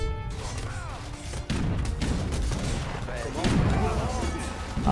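In the Age of Empires 3 strategy game, artillery fires and structures get smashed in a busy battle, with booms, cracks and crashes over clipped unit voices and game sounds, loud and near.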